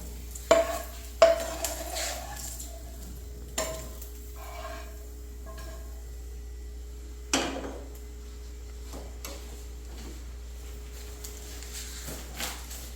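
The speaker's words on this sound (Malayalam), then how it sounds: "നമ്മുടെ വേപ്പിലയും മുളക് പൊടി ഒന്ന് ഇളക്കിക്കാം" Curry leaves and chili powder stirred into frying ivy gourd in a pan with the heat switched off, giving a few sharp scrapes and knocks of a spoon against the pan with quiet pauses between them.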